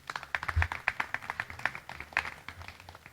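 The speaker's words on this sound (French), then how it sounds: "de bien vouloir les applaudir" A small group claps, scattered, uneven hand claps at moderate distance, fairly quiet and fading toward the end.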